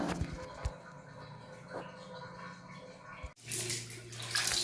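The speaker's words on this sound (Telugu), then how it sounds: "వాష్ బేసిన్ ట్యాప్ కూడా కడుగుతున్నానండి ఒక వాటర్ పోయటమేనండి" Water is poured over a wash basin tap during bathroom cleaning, a quiet running splash that cuts briefly and then returns brighter and fuller.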